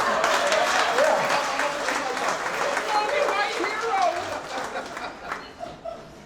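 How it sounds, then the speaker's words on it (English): Wedding guests clap during a reception speech, a moderate, sustained round of applause mixed with crowd chatter and a few voices, gradually fading out. "that's worth an applause, I think."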